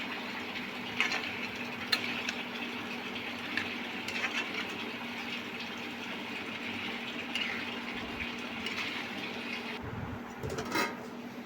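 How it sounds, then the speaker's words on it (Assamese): Meat curry of goat head simmers in a covered pot, a steady low bubbling hiss with occasional soft pops and clicks, quiet and continuous throughout. "এই চাওকচোন ধুনীয়াকৈ উতলিছে।"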